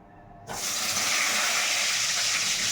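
Fish goes into a pan of hot oil on a gas stove. After a moment of quiet, a sudden loud hissing sizzle bursts up and holds steady at close range.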